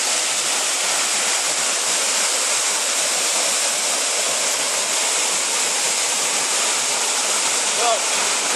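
Steady, full-band roar of a waterfall in Newfoundland, loud and continuous from start to finish with no breaks, close by and rushing without letup.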